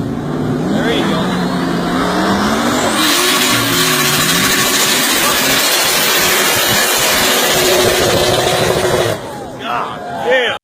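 A drift car engine revs hard and continuously at high volume, screaming through rising and falling pitches for about nine seconds before cutting off, with voices briefly audible near the end.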